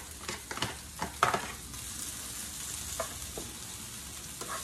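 Rice stir-fried with sesame oil in a skillet gives a steady sizzle broken by scraping, clattering spatula strokes, loudest near the start and softer later, with no talking.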